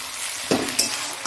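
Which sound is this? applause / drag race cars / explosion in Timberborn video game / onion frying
onion frying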